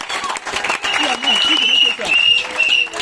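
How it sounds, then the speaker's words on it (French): Applause from a congregation at a wedding blessing in Yaoundé, a steady wash of clapping mixed with crowd voices and a loud speaking voice over it. "Applaudissez pour moi aussi."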